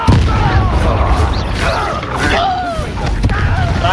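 In Hogwarts Legacy, the Confringo fire spell blasts out in rapid, crackling booms, with several sharp hits landing over a few seconds amid combat clatter, while voices speak over the fight.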